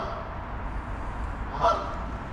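A single goose honks once, mid-distance, beside a winter creek near a footbridge, the brief call rising over a steady bed of flowing water and outdoor ambience.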